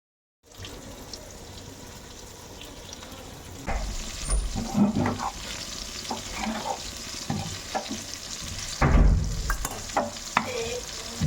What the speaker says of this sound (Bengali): তো আমি বেগুন ভেজে নিচ্ছি।